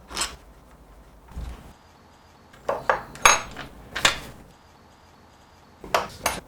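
Metal tools clink and tap while the disc brake caliper nuts on a bike are undone with a screwdriver socket set, giving several short bright knocks and rattles in quick bursts at close range.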